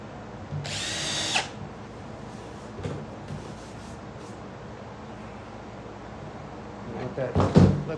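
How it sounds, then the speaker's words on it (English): A power drill whirs in a short high burst near the start, then a quieter stretch of workshop clatter and a second louder burst of drilling holes in the top of a homemade vacuum forming machine at the end. "I'm going to drill all the holes in the top"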